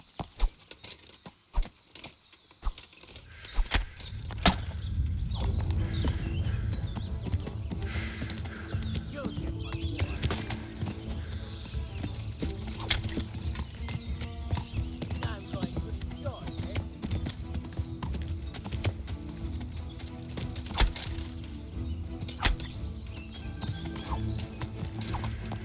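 Horse hooves beat a rapid, continuous patter in Kingdom Come: Deliverance, galloping under a dense layer of game noise and ambience that stays loud throughout after a sparse opening.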